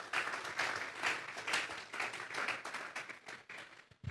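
Applause from a church congregation during a sermon, fairly faint and somewhat distant clapping with a rhythmic, pulsing quality, swelling and easing in waves for about four seconds.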